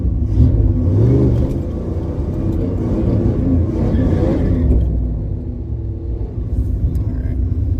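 A big-block street car launches down the drag strip at Bremerton Raceway, its engine rumbling loudly and revving up close by, with talk partly audible over the noise.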